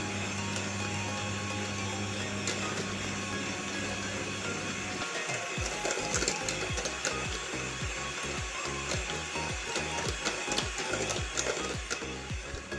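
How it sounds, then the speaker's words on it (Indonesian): Electric mixer churning solid soap batter made from NaOH and palm oil with added essence: a steady whirring motor hum that turns into rhythmic, pulsing churning halfway through, with no voices. "Supaya esensnya tercampur merata, kita mixer kembali selama beberapa menit."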